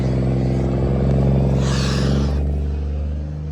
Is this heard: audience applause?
no